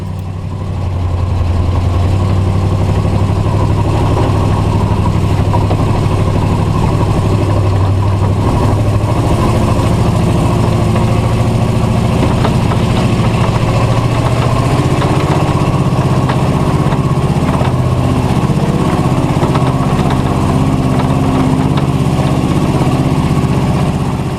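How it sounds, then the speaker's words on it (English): A wrecker tow truck's engine labors steadily and loudly while climbing a steep, soft sand hill, a continuous deep drone with a low rumble that holds for the full stretch, close up and without speech. "I focused my attention on the steep, soft sand hill that we had to climb next"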